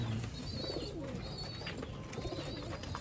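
Pakistani pigeons coo in low, soft, repeated calls close by, with faint chirps and background noise around them.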